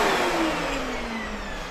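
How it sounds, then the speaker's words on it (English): A household vacuum cleaner runs steadily and close by with a sliding motor whine, used for clearing out roaches. "let's start vacuuming"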